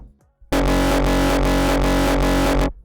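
A distorted, buzzy synthesized saw kick pattern made with Vital pounds steadily about six times in two seconds, loud and dense with a heavy low end, after a brief quiet start.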